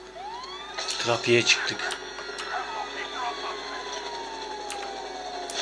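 A police car siren wails, sweeping up and down over Grand Theft Auto V game sounds, with a short burst of speech near the start.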